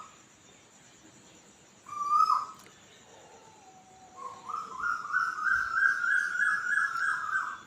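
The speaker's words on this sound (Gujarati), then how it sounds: "કોયલ કૂ કૂ કરે છે," An Asian koel calls at dawn on an overcast, rainy-season morning, a brief rising whistle followed after a pause by a louder run of repeated whistled notes that carry clearly over quiet background hiss.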